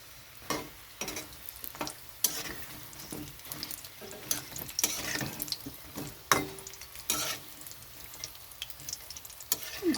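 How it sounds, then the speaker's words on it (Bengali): Capsicum and green chilli fritters fry in hot oil, giving a close, steady bubbling sizzle broken by scraping and clattering as the pieces are stirred and turned. "এরকমভাবে কমিয়ে কমিয়ে ভাজতে হবে, তা না হলে ভিতরে কাঁচা থেকে যাবে।"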